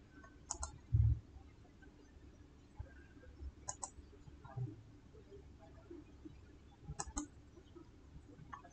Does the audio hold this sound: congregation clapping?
no